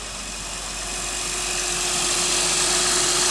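A stock-catback Acura TL Type-S idles steadily after a cold start, its engine hum constant and close with a faint high whine, the level rising slightly as it settles.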